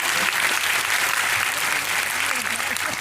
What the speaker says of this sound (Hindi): मैं चाहूंगा इनके लिए भी एक बार जोरदार तालियां।